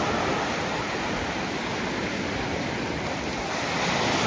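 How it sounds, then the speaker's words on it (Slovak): Sea surf on a beach at a Salalah, Oman resort rolls as a loud, continuous wash of breaking waves, swelling slightly at the end, with no voices. "Ešte si dáme detail mora."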